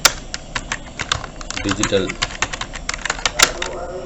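Computer keyboard keys clatter in quick, uneven bursts of sharp clicks, close by, under someone speaking.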